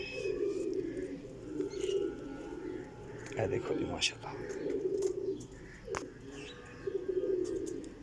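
Pigeons, including a female, coo steadily nearby in a series of low throaty calls, with brief rustles and clicks, as someone speaks over them.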